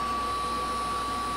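A Royal 7300 vacuum cleaner runs steadily with a loud motor whine and a strong sustained tone over airflow rush, close and unbroken.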